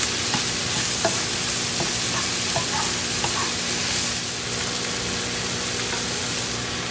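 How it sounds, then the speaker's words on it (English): Mushrooms and onions sizzle steadily as they fry and caramelize in a pan, a continuous close hiss with a few light stirring ticks scattered through it. "Starting to get some color caramelizing on those mushrooms."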